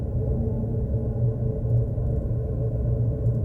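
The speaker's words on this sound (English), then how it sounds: "And then would make this resonant seashell sound." A steady, hollow low roar with a soft, resonant hum, like holding a seashell to the ear, continuous and unchanging with no voices.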